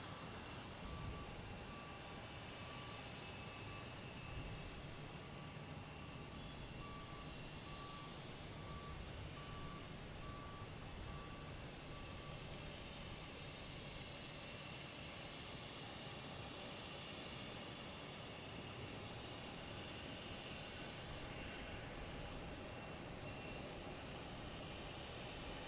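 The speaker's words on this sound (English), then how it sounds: "So we have this American Airlines coming from Philadelphia, flight 3073" An American Airlines plane arriving at Boston Logan Airport makes a broad, continuous engine roar from a distance, with an intermittent electronic beeping from ground equipment early on and no talking.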